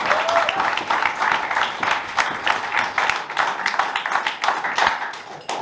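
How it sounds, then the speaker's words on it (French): Audience at a comedy show clapping, a lively patter of hands that swells and dips in waves, moderately loud, with a brief voice at the start. "je pense que vous pouvez vous applaudir"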